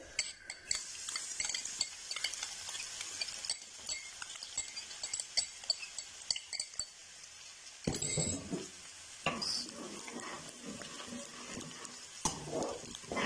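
Two tablespoons of finely chopped garlic frying in hot cooking oil for restaurant-style white sauce pasta: a loud, crackling sizzle with bursts of stirring and metal utensils clinking against the pan, no talk.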